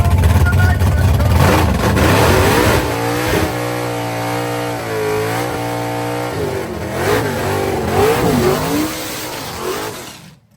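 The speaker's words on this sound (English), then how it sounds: "Giant smoky burnout" Nitrous Fox body Mustang drag car with Chevy power, loud revving burnout at a drag strip, the engine note rising and wavering through several sustained rev pulls before cutting off.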